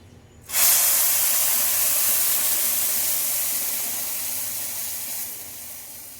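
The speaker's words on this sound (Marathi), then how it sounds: "आता ह्यामध्ये आपण गरम गरम दूध ऍड करूया" Hot milk pours into a pan of vermicelli kheer with a sudden, steady rushing hiss that holds for several seconds and then eases off slightly toward the end.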